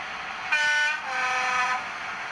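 A model Class 55 Deltic locomotive, Queens Own Highlander, runs on a test track with a steady hum and two sustained horn-like tones, near and fairly loud, with no talking.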